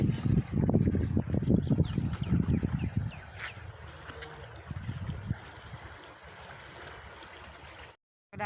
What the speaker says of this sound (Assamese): চাওক কেনেকুৱা কোবাল ফুট শব্দ শুনক আপোনালোকে পানী